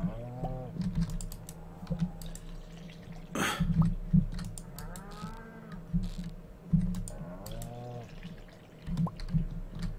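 Several drawn-out, low lowing calls from cows in the video game Stardew Valley recur across the clip over a steady background drone, with soft clicks scattered between them.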